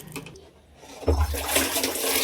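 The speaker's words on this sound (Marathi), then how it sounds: "सगळ्यात आधी मी कोटीतलं पाणी काढतो" Water gushes and splashes as it is drawn from a household storage tank for washing clothes, a short surging pour that starts abruptly after a brief quiet moment, loud and close.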